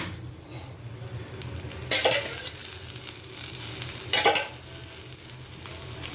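Oil hits a hot pan under an onion dosa and sizzles, a continuous crackling hiss with two louder bursts as more oil is poured, moderately close with no talking.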